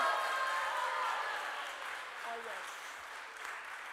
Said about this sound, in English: Can we give you a huge round of applause to Tishani?